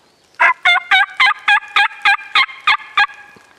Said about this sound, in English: That hen sounds like she's coming this way.